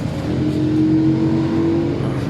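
A motorcycle engine being revved after work on a stock 59 cylinder head converted to big valves, giving a loud, steady close-up drone with a sustained rising tone through the middle and no talk.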